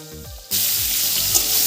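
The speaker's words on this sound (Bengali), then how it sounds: "এবার আমি আলু আর কাঁচকলাটাই তেলের মধ্যে ভেজে নেব" Salted, turmeric-coated potato and raw banana pieces dropped into hot oil in a kadai, a sudden loud, steady sizzle that continues after a short quieter lead-in.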